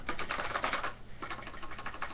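Rapid key presses on an old computer keyboard used with an 8080 assembly system, a busy close clatter of clicks in two short bursts with a brief pause between.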